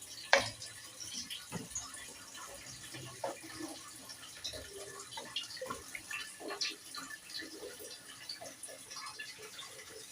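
Water is poured over arrowroots in a cooking pot, making a faint, uneven splashing and trickling with scattered drips, close but quiet.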